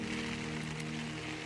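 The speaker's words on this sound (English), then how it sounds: "The rain was relentless, the winds had picked up" Heavy rain falls on a wild camp in windy mountain weather, a dense steady hiss of drops hitting a surface close by, with a low constant hum underneath throughout.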